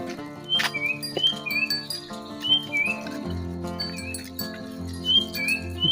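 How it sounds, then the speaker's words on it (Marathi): An unidentified bird whistles and calls repeatedly in short rising chirps near cattle sheds by a main road in the early morning, with faint rustling and patter underneath. "कोणता तरी पक्षी आहे, पण त्या पक्षीचा आवाज बघा."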